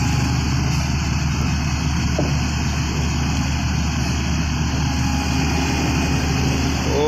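Heavy bored-pile drilling rig engine running steadily at a construction piling site, a continuous loud low drone with no pauses and no talk.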